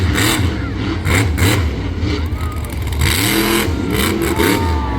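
The Scarlet Bandit monster truck's big engine revs hard at a speedway skills competition, with loud rising and falling roars and throttle swells that repeat across the stretch.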